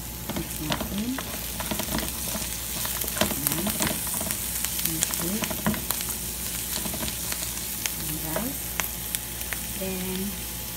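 Ingredients sizzle steadily in a hot pan while a spoon stirs and scrapes in frequent clicks, with the frying hiss constant and close throughout.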